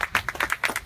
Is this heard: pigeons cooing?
no